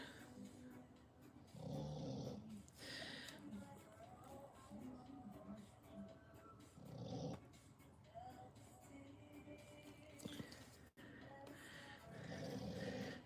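A dog snores softly indoors in slow, rumbling breaths repeating every few seconds, faint and low under a quiet room background.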